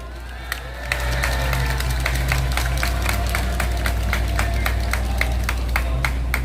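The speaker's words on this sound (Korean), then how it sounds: "박수로 청해 듣겠습니다" Outdoor rally crowd claps in a steady rhythmic beat, sharp evenly spaced hand claps over a low constant hum, beginning after a quiet first second and continuing throughout.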